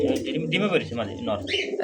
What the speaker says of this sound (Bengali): খুবই সুন্দর একটা ঝোড়া হাই ফ্লার কবুতর হাড়িতে বসা আছে